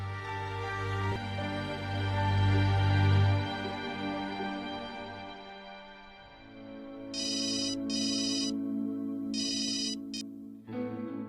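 A phone ringtone sounds in several short, repeated bursts over a soft background music score, moderately loud and alone without voices.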